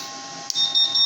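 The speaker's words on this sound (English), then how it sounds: "You already have water alert, alarm." A water alert alarm on an OMTech 80W CO2 laser machine sounds a piercing, steady electronic beep that starts abruptly, close and loud against a faint hum.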